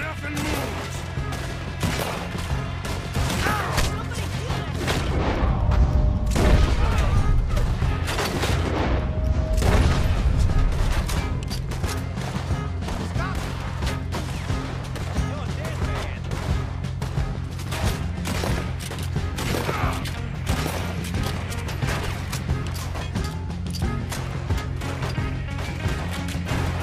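Gunfire during a bank robbery in Red Dead Redemption 2, with dense repeated shots and scattered bangs throughout, a heavier booming stretch early on, and voices calling out between volleys.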